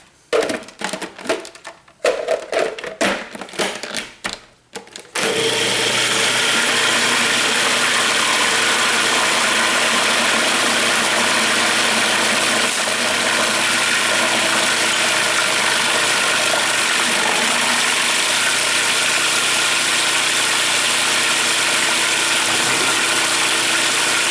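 A kitchen blender whizzes a mixture of nutmeg and butter. A few seconds of clattering and handling come first, then the motor starts and runs at a loud, steady whir for about twenty seconds with nobody talking.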